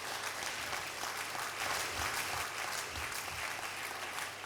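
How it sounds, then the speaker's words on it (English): Concert audience applauding their chairman at a memorial concert, a dense steady wash of clapping that fills the clip from start to finish at full strength. "He deserves another round of applause."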